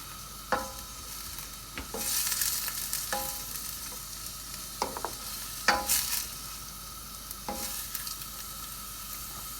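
Two large onions, finely sliced, fry in hot oil with a continuous soft sizzle, while a spoon clanks and scrapes through them every second or so, close and clear.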